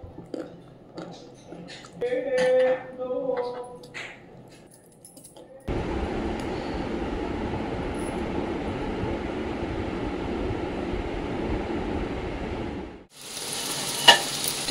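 Food sizzles and crackles in a frying pan at home, a loud steady hiss lasting several seconds after a stretch of quiet talking and handling sounds, ending with a sharper burst.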